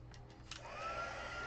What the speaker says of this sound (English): And now we're just going to heat emboss it